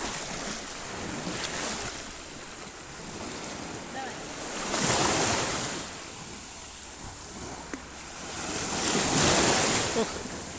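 Sea waves break on the shore at Sochi, two big swells of surf rising and falling over a steady roar of wash and wind noise, loud and close, with a few faint voices.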